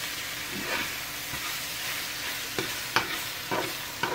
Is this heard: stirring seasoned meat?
yes